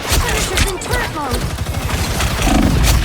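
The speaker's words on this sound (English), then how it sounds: "Not the turret again." A turret in a multiplayer video game fires rapid bursts of gunfire with booming impacts, loud and dense throughout, while players talk excitedly over the shooting.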